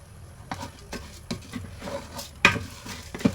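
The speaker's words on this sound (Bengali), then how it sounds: "চাল ডাল ধুয়ে দিয়ে দিব এবং ভাজতে থাকতে হবে যতক্ষণ একটু ভাজা ভাজা হয়ে আসবে ততক্ষণ।" Washed rice and lentils frying with spices in a pot for khichuri, giving a soft, steady sizzle broken by repeated scraping stirs, close up and without talk.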